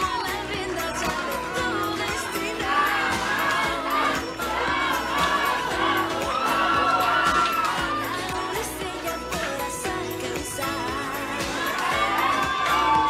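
Audience at the Mexicana Universal Veracruz 2021 pageant crowning cheers and shouts in a dense, sustained roar, with applause blended in and steady loudness throughout.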